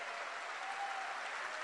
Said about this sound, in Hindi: जोरदार ताली हिना के लिए दोस्तों